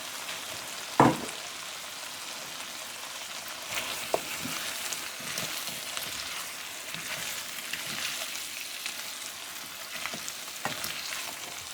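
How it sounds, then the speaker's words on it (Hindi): Cauliflower florets tipped into half-cooked potatoes hiss and crackle as they fry for aloo gobi. A sharp clatter comes at the start, then a steady soft sizzle with occasional scraping stirs, without speech. "अब हम इसमें गोभी डाल देते हैं।"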